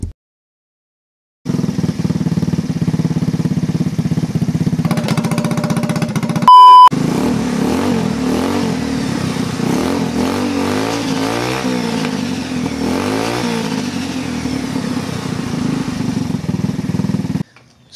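A GY6 150cc dune buggy engine with a new exhaust starts and runs, settling into a steady idle, then revs up and down repeatedly in loud rising and falling sweeps, close to the microphone, with no voices.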